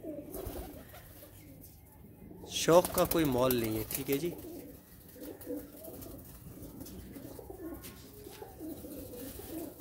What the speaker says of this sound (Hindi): कितने प्यारे कबूतर हैं